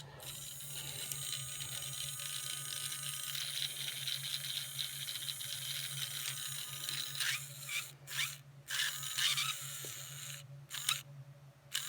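A motorized AEG Nia drive unit runs with a steady electric whir and buzzy gear rattle, then cuts in and out in short bursts toward the end, close and fairly quiet.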